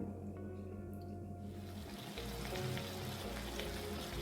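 Starchy spaghetti cooking water splashes into a hot pan of pasta and vegetables and sizzles, a soft pour turning into a steady bubbling hiss that continues for several seconds.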